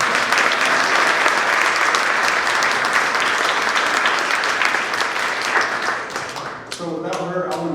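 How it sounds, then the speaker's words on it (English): A crowd gives a sustained round of applause at a talk, thick steady clapping that fades toward the end as a voice begins speaking over the last moments. "Can we give Rita a round of applause?"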